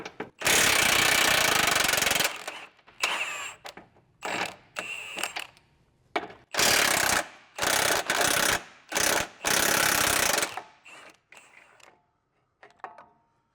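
Loud bursts of an impact wrench or ratchet undoing 21 mm front control arm bolts on a Tesla Model 3 or Model Y, several long rattling runs with pauses between, close up and with no talking.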